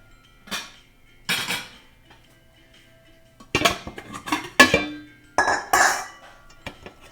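A thick homemade play dough mixture is moved into a pot, bringing several bursts of metallic clinks and clanks of a utensil against cookware, separated by short quiet gaps, with no talking.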